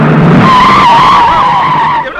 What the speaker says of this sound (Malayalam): വണ്ടി ഇങ്ങനെ വലിയ ശബ്ദത്തോടെ ബ്രേക്ക് ഇടുന്നത് കാണാൻ നല്ല ചേല.